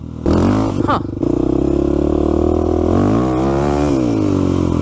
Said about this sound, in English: We're lugging the engine.